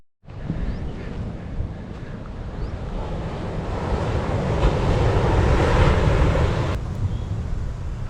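Sea waves roar against the shore in a broad, continuous rushing wash that swells gradually louder midway, mixed with wind on the microphone and no voices.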